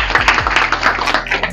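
Applause from a quiz audience at a study centre in Baramati: a dense, steady patter of many hands clapping close by, with no voices over it.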